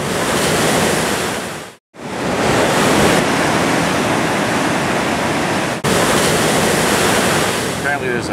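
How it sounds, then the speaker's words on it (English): Ocean waves driven by hurricane winds pound the rocky shore at Peggy's Cove, Nova Scotia, a loud, continuous roar of surf with heavy wind buffeting the microphone and a brief dropout partway through. "I went to check out the incredible show that the waves were putting on."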